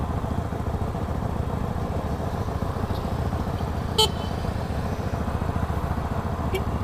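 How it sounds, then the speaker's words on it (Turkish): A low engine drone fills the scene, with a short horn toot cutting in midway and another faint one near the end. "Korna bastı ben de basayım bari"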